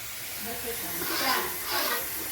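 A pressure cooker at home releases steam in a steady hiss that swells twice, under people talking nearby.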